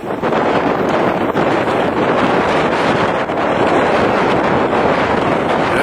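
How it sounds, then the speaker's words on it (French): Strong wind buffets the microphone outdoors on the upstream side near floating structures and small bridges, a loud, continuous broadband roar with no letup throughout. "Et il y a du vent, hein."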